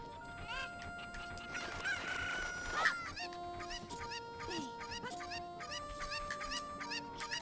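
Chickens from the video game The Legend of Zelda: Ocarina of Time cluck and squawk in a string of short, bright calls over steady game music, with one louder burst near the middle.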